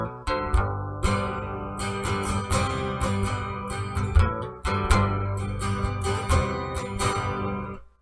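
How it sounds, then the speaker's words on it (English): Acoustic guitar fitted with an iRig Acoustic Stage MEMS pickup and boosted bass, strummed in quick, full chords with a deep, boomy low end. The playing runs steady and loud with no talking. "Now this is going to add bass to the regular guitar sound"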